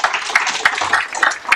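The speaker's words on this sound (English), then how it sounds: "how about a round of applause for Chuck?" An audience applauds for Chuck Weibel at the Millville Thunderbolt Club induction ceremony, a steady patter of many hands clapping close and fairly loud, with no talking.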